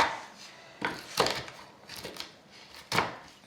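A knife roughly chops pecans on a wooden board for carrot cake, landing a few separate, close, crisp thuds with gaps between them, no talk.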